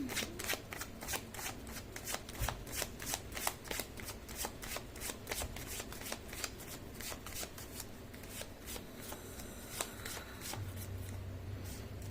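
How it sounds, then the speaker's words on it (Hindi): Tarot cards are shuffled by hand in a quick, steady run of soft riffling flicks and taps that continues without a break, close and fairly quiet. "मैं कर लेती हूँ कार्ड की शफलिंग।"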